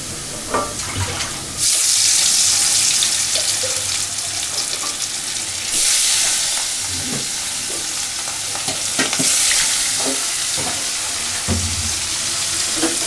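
Pieces of large silver carp fish frying in hot oil, a loud steady sizzle swelling in broad bursts, with occasional stirring clatter and utensil knocks close by.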